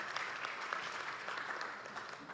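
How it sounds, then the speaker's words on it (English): A conference audience claps in steady, dense applause at moderate distance, with no talk over it. "A round of applause for her, please"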